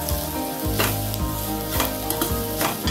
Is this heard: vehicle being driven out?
no